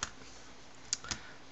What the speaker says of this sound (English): Okay, and then typing,